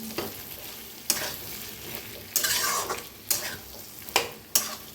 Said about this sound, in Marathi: तर छान असं मिक्स करून त्याला बी छान असं भाजून घेऊया